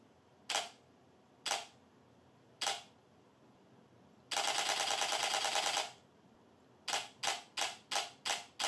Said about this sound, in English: Burst shooting with focus tracking is available at 10 frames per second with optical finder